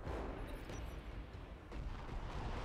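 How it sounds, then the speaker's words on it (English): Artillery fire in the BattleTech mech game, a dense continuous rumble of booming blasts that stays loud and broadband throughout, with no talk over it. "There's the artillery."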